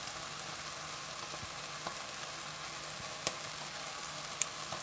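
Black trumpet mushroom, bacon and onion jam sizzles steadily in a pan over high heat, a constant close hiss with a few small pops and stirring clicks, no talking.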